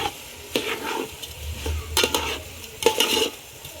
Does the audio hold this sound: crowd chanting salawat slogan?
no